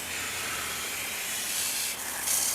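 Steady hissing water spray rinses car wheels and tires after cleaning, a continuous close broadband wash lasting the whole stretch with small shifts as the nozzle moves.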